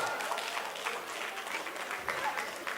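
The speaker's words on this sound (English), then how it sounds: "Give yourself a hand clap." A class of students at a school assembly claps their hands in a dense, continuous patter of applause, fairly close and steady, with voices mixed in.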